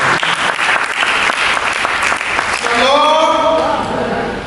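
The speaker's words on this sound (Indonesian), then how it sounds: "Berikan tepuk tangan bagi Yesus." A church congregation claps loudly and steadily in dense, sustained applause at an Indonesian worship service, with a voice and music rising over it near the end.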